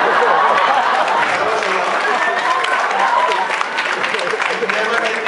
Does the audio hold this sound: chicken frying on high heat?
no